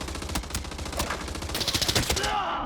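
Rapid bursts of hip-fired F2000 rifle shots in a shooter video game, close and loud, sharp repeated cracks over a busy game mix with a brief sweep near the end.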